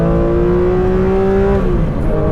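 A sports car's 4-litre flat-six engine revs hard under acceleration, a loud, close, rising mechanical wail with a gear change near the end, and no talking.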